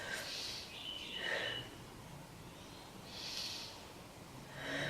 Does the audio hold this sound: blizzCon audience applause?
no